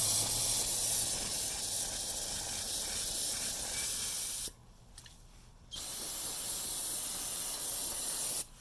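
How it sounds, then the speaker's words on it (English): Water from a hose hisses steadily as it sprays off a Peerless hydrostatic transmission during repair. The spray is close and even, stops briefly midway, then resumes before cutting out at the end. "Hose it off a little bit."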